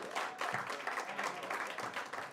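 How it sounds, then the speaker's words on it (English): Comedy club audience in Times Square, New York City, applauding a comedian's introduction, a lively crowd of hands clapping in uneven pulses, moderately loud and close, with no speech over it. "Clap it up for Brian McKenna, everybody."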